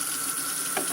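Steady stream of running water from a tap, hissing and splashing as a bottle cap is rinsed beneath it, with a small splash change near the end.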